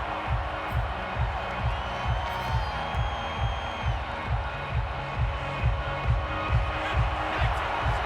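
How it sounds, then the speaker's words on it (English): A video game football crowd roars steadily with cheers and shouts during a replay review. A low rhythmic stomping pulse runs beneath the continuous noise throughout. "Plenty of shouts from this crowd as they watch the replay."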